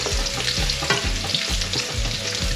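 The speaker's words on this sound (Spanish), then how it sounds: "Los ajitos hay que ponerlos bien dorados." Garlic fries in a pan for cigalas al ajillo: a close, bright sizzle of oil with rhythmic scraping and stirring strokes of a utensil repeating about every quarter second.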